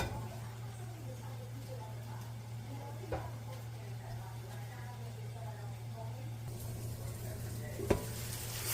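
Cabbage and onions cook in a covered pan with a faint, steady sizzle under a low electrical hum, broken by a couple of soft knocks, and a voice speaks at times.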